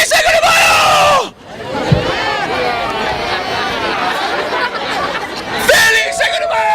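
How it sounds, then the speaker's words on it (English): A festive Cinco de Mayo crowd in Mexico babbles and chatters, with overlapping voices, laughter and shouts close by, rising loud at the start and end with a brief dip and a sharp clack in between. "This crowd is not riled up enough."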